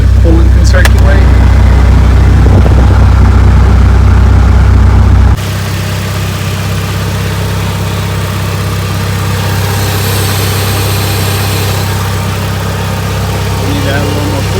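A freshly rebuilt Mitsubishi Evo 10 engine runs close by, a heavy low rumble that shifts after about five seconds into a steady, even idle hum.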